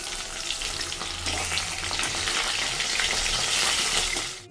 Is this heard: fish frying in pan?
yes